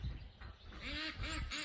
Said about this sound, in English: See the ducks way down there?